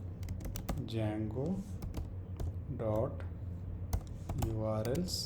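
Rapid, steady keyboard typing while code is entered on a computer, continuous close clatter running under a voice talking throughout.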